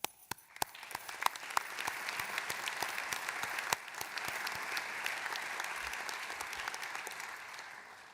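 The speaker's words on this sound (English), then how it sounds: "Let us all give a big round of applause to all the graduates" Audience in a concert hall giving a round of applause at a graduate commencement, full sustained clapping with a few sharp claps at the start, holding steady throughout.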